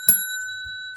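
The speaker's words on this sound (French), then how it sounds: "Quand la petite sonnette" A small bell rings once with a sharp, clear ding that hangs in the air and slowly fades, signaling quiet during a children's story reading.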